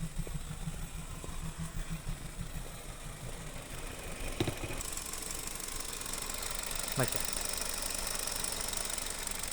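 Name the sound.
Kia Rio car engine running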